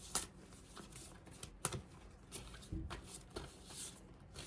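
A tarot card deck being shuffled by hand, soft riffling and flicking bursts with brief taps, close and fairly quiet, recurring irregularly with no talking.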